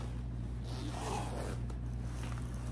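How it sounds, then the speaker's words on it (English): A zipper on a Temu Halloween item is pulled in one smooth, close zip lasting a couple of seconds, with no talking. "Oh, that is creamy. That is a good zipper."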